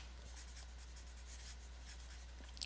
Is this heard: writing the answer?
yes